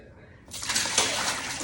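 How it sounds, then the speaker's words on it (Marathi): Rinse water from washing fresh organic mint is poured out in a garden in America, starting as a sudden splashing gush that stays steady after a quiet lead-in with low background noise. "चला आपण आता एक पाणी फेकून देऊ"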